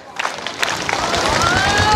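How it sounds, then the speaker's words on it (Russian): Audience applause at a seminar closing rises from a quiet start into steady, dense clapping that carries through the rest, with some crowd noise mixed in. "Ваши аплодисменты, друзья."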